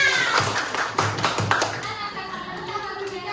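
Elementary schoolchildren in a classroom clap their hands in a few rhythmic bursts over talking voices, the claps close and uneven before fading into chatter.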